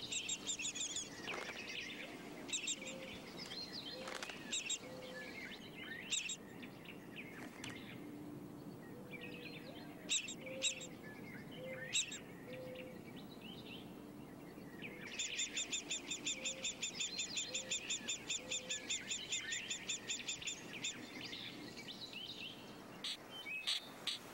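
Various bird calls ring out in a quiet outdoor setting: scattered chirps and sharp notes from woodpeckers, then a fast, rapid rattling series of calls near the end.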